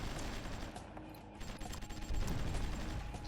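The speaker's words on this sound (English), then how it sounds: "Luckily, the Nigerian tank is also shooting at us now." Tank gunfire rattles in a combat video game, with dense, continuous bursts of shots and mechanical clatter filling the mix, loud and busy throughout, with no clear pause between reports.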